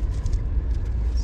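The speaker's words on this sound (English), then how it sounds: "I'm driving on the lowest gear and currently on two-wheel system." A personal vehicle grinds up a narrow, steep trail near Pachmarhi in its lowest gear with two-wheel drive engaged, giving a loud, steady, close engine rumble for about a second.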